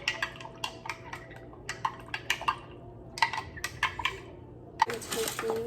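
A metal spoon stirs caramel syrup in a cup, clinking sharply against the sides in a quick, irregular run of close, bright taps, ending in a louder clatter.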